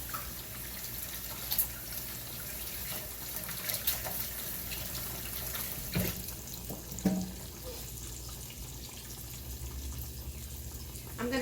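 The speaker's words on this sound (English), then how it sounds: "Okay, so I'm going to wash my hands." A kitchen faucet runs steadily while hands are washed beneath it, a soft continuous splash of water with small shifts in flow, fairly quiet and heard alone.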